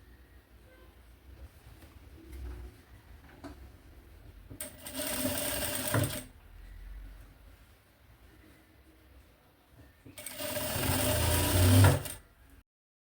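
A sewing machine stitching a bag lining runs in two steady bursts of about a second and a half each, separated by quiet handling noises.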